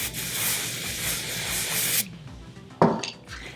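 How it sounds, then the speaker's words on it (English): Hairspray hisses from an aerosol can onto a wig in a steady two-second burst, followed by quieter handling sounds and a brief sharp noise. "Hairspray."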